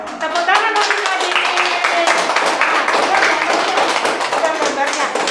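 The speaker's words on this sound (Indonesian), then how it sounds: "Tepuk tangan untuk adik." Children and adults in a combined class clap for a young child, a close, rhythmic burst of hand claps with voices chattering over it throughout.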